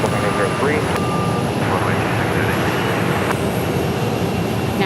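An airliner approaching to land on runway 26 at Phoenix Sky Harbor Airport, a steady broad roar of engine noise holding level throughout, with radio voices and talk faintly beneath.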